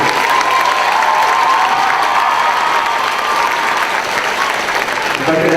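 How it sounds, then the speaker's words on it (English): Loud, sustained applause fills a school auditorium at a fifth grade graduation farewell, a dense crowd clapping steadily for the whole stretch, with a few cheers mixed in. "Let's give the fifth grade teachers a big round of applause."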